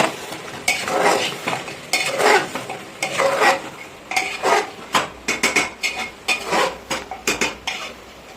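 Mutton cooked with goat fat in a pot is mixed with chili powder, Kashmiri chili powder and black pepper powder. A utensil makes repeated close scraping and clanking strokes against the metal in a steady rhythm over a soft sizzle.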